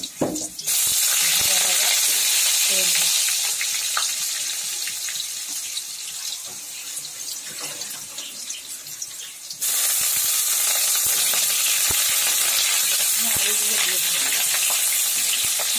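Potato pieces drop into hot oil tempered with spices and fry with a steady, dense sizzle that starts just after the opening and keeps going strongly, with a brief dip midway; a voice is faintly present at times.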